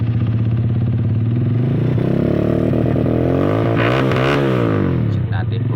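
A motorcycle engine misfires and sputters unevenly, its rough idle rising and falling with irregular revs, close and loud, with a voice talking over it.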